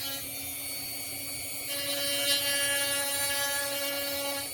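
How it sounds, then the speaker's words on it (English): A Dremel rotary tool cuts a groove around a homemade arrow shaft, giving a steady high-pitched whine that shifts and grows slightly louder partway through as the bit bites in. "So all I'm doing is taking a Dremel and I'm making a circle around the shaft"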